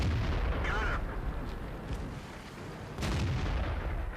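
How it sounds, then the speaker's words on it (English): Tank cannon fire in World of Tanks, heavy booming blasts with a sharp report near three seconds over a dense rumbling battle din. "as soon as he gets around the tank, I'm going to pop out and take a shot."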